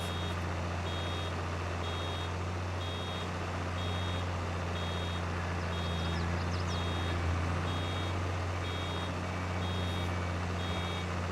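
A vehicle's reversing beeper in Farming Simulator 22 sounds as evenly spaced electronic beeps over a constant low engine drone, moderately loud throughout.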